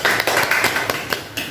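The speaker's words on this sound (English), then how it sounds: "Clap for everyone." A few people clap for everyone at the end of an English class, giving a brief, sparse round of taps and claps in an irregular rhythm, fairly close and without talk.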